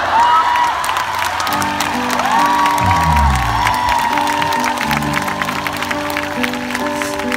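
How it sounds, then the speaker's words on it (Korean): A large concert crowd at a show cheers and applauds loudly and continuously, with whoops and shouts blended into the steady clapping, while tones ring out beneath the noise. "이분이 마음에 들면 여러분 큰 소리로 환호해 주세요"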